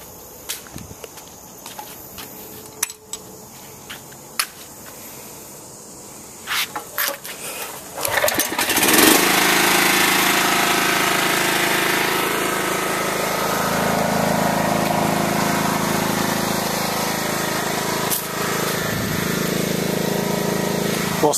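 A riding lawn mower engine starts after a belt drive repair and settles into a loud, steady running drone, preceded by scattered clanks and knocks of handling nearby.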